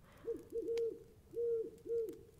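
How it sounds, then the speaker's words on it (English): Several soft, low owl hoots in a rhythmic series of short calls, heard alone against a quiet night background at a moderate distance. "can you hear that? Is that owls?"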